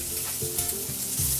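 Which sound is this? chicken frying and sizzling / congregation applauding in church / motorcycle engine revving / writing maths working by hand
chicken frying and sizzling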